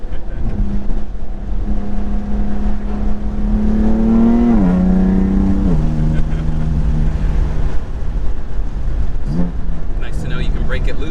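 A BMW F80 M3 with about 500 wheel horsepower, driven hard on a track, revs hard, pitch climbing and dropping through gear changes, with a steady rumble throughout.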